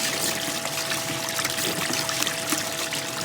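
Water pouring and trickling steadily through a Gold Tower gold recovery sluice, a continuous close splashing wash with no talk.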